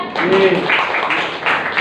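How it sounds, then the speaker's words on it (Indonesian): Students in a classroom clap for a classmate, a short dense burst of applause mixed with voices talking and calling out. "Tepuk tangan buat Novia."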